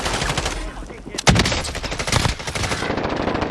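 Rapid automatic gunfire from an online battle-royale shooter on the island map, loud close bursts that keep on almost without pause, with one heavy sharp shot marking the start of a denser stretch.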